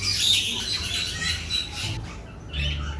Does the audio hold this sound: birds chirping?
yes